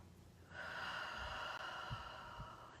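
A slow, steady breath drawn in during a breathing exercise, a soft airy rush that starts after a brief quiet and holds evenly for over two seconds, close and alone.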